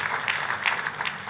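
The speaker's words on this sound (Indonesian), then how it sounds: "Kita kasih tepuk tangannya yang paling meriah buat Tuhan kita." Church congregation applauding during a worship service, a dense steady wash of clapping for just over a second with no voices on top.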